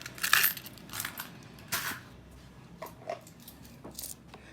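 Pennies drop one after another into a water table, giving several faint, sharp clinks and splashes spread irregularly over a few seconds against a quiet background.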